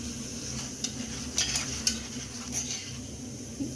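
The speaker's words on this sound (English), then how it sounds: "I've already added the oil, so I'm just going to turn it to let it cook just a little bit." Layered Kenyan chapati cooks in oil in a pan with a soft, steady sizzle, broken by a few light, sharp clinks of a utensil against the pan.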